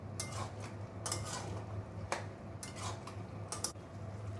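A spoon scrapes and clinks against a frying pan while ginger garlic paste is stirred into frying chicken for a spicy Bengali curry. The strokes are soft and intermittent over a steady low hum.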